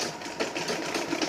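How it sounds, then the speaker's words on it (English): A sewing machine stitches a zip onto Ankara fabric, its needle running in a fast, even mechanical whir that stays close and continuous throughout. "So I'm sewing the zip to one edge of the Ankara now."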